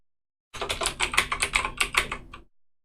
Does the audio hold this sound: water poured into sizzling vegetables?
no